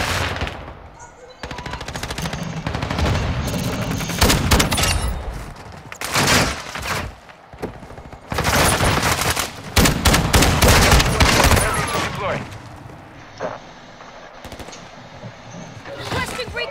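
Bursts of automatic and shotgun fire in a multiplayer shooting game, loud rapid volleys separated by brief lulls, with game sounds between.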